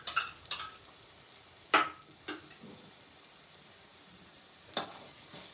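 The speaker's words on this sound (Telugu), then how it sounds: "ఆనియన్స్ మంచిగా ఫ్రై అవ్వాలి." Chopped onions for a chicken curry fry over a low flame in a pan, giving a faint, steady sizzle broken by a few short scraping stirs.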